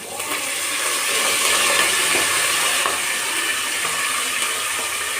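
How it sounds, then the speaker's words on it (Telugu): Curry leaves drop into hot oil along with green chillies for tomato rice, setting off a loud, crackling sizzle that swells quickly and then holds steady and close. "కరివేపాకు వేస్తాం."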